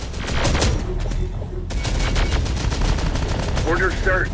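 Dense gunfire rattles through a battle in Terminator: Dark Fate – Defiance, sustained bursts layered under game radio chatter and voices throughout.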